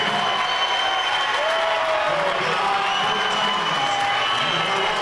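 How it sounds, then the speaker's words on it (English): Basketball crowd in a high school gym, Lorain vs. Cleveland Heights boys' game, steady murmuring and scattered jeering with some applause as a fouled-out player leaves the court, continuous and fairly loud throughout. "Crowd giving him a little bit of grief"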